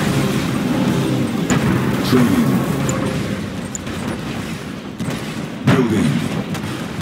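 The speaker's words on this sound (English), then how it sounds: "Tiberium explosion detected." Tiberium explosions in the Command & Conquer 3: Kane's Wrath real-time strategy game, heard as a dense rumbling barrage with several sharper booms over steady battle noise, while a synthetic announcer voice speaks.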